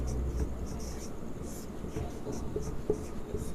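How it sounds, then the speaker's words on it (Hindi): Marker or chalk scratching across a classroom board in short, continuous strokes, moderately close and alone, during a Class 10 maths lesson on quadratic equations. "तो यहाँ पर लिखेंगे"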